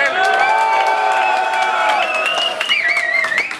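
A crowd at a freestyle rap battle cheers, whoops and claps in a shout vote, a dense burst of voices and high whistles sustained throughout with rising shouts near the end.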